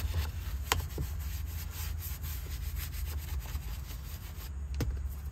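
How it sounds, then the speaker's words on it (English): A detail brush scrubs the tight spots of a car interior in a steady, close rubbing scratch, with a few sharper ticks over a low background hum. "use your detail brush"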